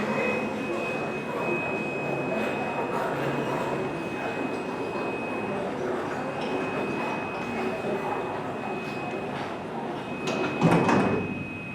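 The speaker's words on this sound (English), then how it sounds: "there go the doors being really slow" An OTIS hydraulic freight elevator's doors slide slowly shut in a mall receiving area, a long steady rumble with a faint tone, ending in a brief louder clunk near the end.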